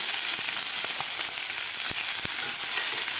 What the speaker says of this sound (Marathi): कांदासुद्धा आपल्याला एक मिनिटभर परतून घ्यायचा आहे